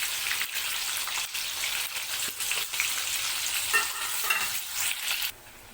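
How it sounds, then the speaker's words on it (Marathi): Paneer frying in hot oil, a loud, steady crackling sizzle up close with bursts of stirring throughout, which drops away abruptly near the end. "आता मी हे पनीर आहे ना, याच्यामध्ये फ्राय करून घेणार"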